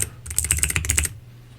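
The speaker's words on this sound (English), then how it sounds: "I started typing before you said anything." Quick burst of typing on a computer keyboard, about a dozen close, crisp key clicks in a rapid run lasting under a second, followed by quiet.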